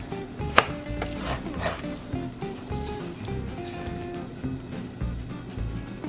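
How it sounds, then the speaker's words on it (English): A spoon working through a thick meatball mixture in a bowl, with steady close-up scraping, squishing and tapping strokes in an irregular rhythm, moderately loud and with no voices. "I'm using my spoon first for this"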